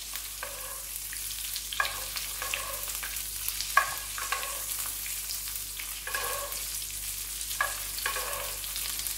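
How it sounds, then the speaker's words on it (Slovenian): A trout fillet sizzles in a pan as melted butter is spooned over it, a steady close crackle broken by repeated soft scraping and splashing strokes of basting, with no talk. "poj file s tem maslom oblivamo"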